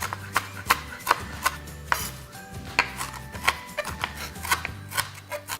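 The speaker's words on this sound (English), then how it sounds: "I'm going to chop it into small bits." A knife chops cooled cooked bacon into small bits on a board in a rapid, even series of close, crisp thuds, around a dozen strikes with a slight scraping between them.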